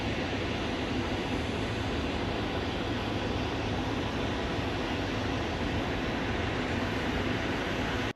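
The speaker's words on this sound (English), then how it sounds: "just, airplane engine noise, which we don't need" Steady, loud engine roar of Putin's presidential airplane, an older-looking jet with stripes, a continuous broadband drone with no break and no voices.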